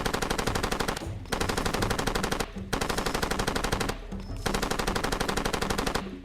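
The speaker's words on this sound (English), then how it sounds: "Oh yeah, you can shoot down trees like in Predator." Sustained bursts of rapid automatic gunfire from Far Cry 2, used to shoot down trees, rattle in four long volleys separated by brief pauses, loud and close with no talk.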